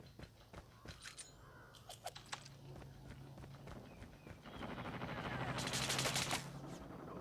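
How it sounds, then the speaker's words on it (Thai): Rapid bursts of Call of Duty Mobile gunfire, some in quick automatic strings, with a louder sustained volley near the end over a steady background hum. "ใครมันยิงอะไรกัน ไม่เห็นมีใครยิง"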